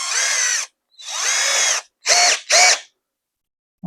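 A short, thin drill bit bores a pilot hole in bursts: four close, high whining runs of the drill, the last two brief, separated by silence.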